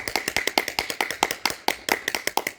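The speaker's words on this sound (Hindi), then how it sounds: "जोर से तालियां बजाएंगे ताकि इसको प्रेशर के सारे पॉइंट दब जाए।" Loud, rhythmic hand clapping during a yoga class, repeated sharp claps in a fast, steady series, close and forceful, with no talking over them.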